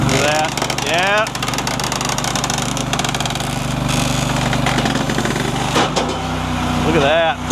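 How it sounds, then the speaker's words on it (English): A Fuelwood Splitta 600 firewood processor strains and grunts on a double-headed log, its loud engine drone dipping and rising with hydraulic whines and clanks, up close and continuous. "hear the machine grunt a little bit"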